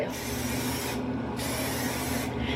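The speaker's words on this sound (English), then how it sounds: "I'm gonna spray some finishing spray on my hair" Continuous hissing spray of an aerosol hair finishing spray, two long bursts separated by a brief pause, close and steady.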